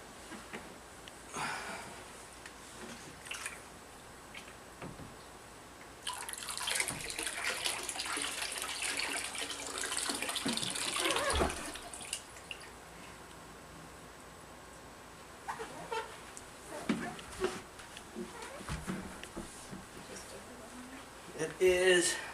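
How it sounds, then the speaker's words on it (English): Water dumped from a container into a Yeti 65 cooler in a cooler comparison, a loud rushing gush lasting several seconds, framed by quieter splashes and handling noise, with people talking around it. "We're going to dump the rest of the water in there to see how full the Yeti gets."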